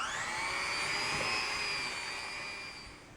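A whisk beats a sugar mixture for pumpkin cheesecake with a steady, high, whirring motor whine that holds evenly and then fades slightly toward the end.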